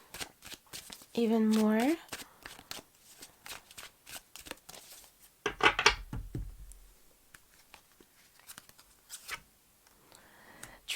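Tarot cards are shuffled and laid out in a rapid ripple of near, crisp riffles and soft taps for a timeless pick-a-card reading, with a short tonal chime and someone speaking briefly between the card sounds.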